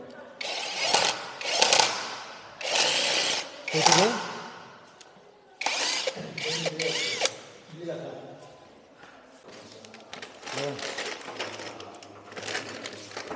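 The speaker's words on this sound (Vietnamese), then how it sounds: "Khoan đi, khoan đi." A power drill bores in short, loud, gritty bursts while a statue is being mounted in a church, several runs repeating close by with people talking between and over them.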